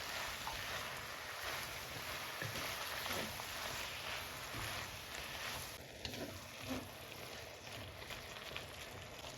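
Cubed peeled tomatoes being mixed into potatoes and fenugreek leaves frying in a pan, a faint, soft sizzle with gentle scraping and stirring noises.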